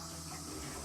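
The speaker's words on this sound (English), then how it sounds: "because the water's been off, there might be a bit of air in the line, it might just splash" A tap reopened after the water was shut off, air in the line making it sputter and splash, a harsh broadband gushing rush, continuous and close for under a second.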